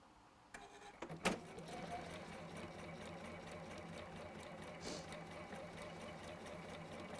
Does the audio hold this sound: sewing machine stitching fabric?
yes